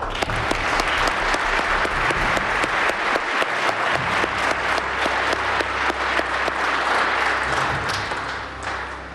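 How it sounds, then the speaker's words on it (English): Loud, sustained applause from a large crowd at a police award ceremony, steady clapping throughout that tapers slightly at the end. "about another round of applause?"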